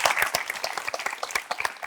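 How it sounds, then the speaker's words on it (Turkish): A studio audience on a Turkish talk show breaks into lively applause, many hands clapping close together in a steady, fairly loud patter that lasts the whole short stretch with no one speaking. "bir alkış alalım"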